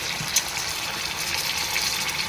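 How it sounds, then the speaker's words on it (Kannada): Water poured into chicken curry in a pot, a steady continuous gushing wash with a faint splash near the start, close and alone without speech. "ಸ್ವಲ್ಪ ನೀರು ಹಾಕ್ತೀನಿ ರೀ ನಾನು"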